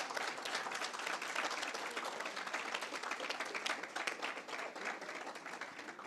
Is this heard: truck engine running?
no